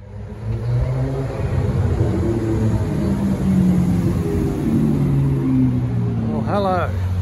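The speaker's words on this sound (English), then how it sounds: "There's a green Ferrari coming straight at me." A green Ferrari drives past on a London street near Knightsbridge, a loud engine drone that rises and falls under ongoing close talk, with a brief high chirp near the end.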